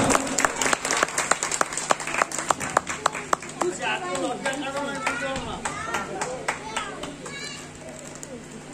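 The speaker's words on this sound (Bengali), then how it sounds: "জোরে হাততালি হোক একটা" An audience at a committee honouring ceremony claps, a run of sharp separate claps that thickens into scattered applause, with voices talking over it in the second half.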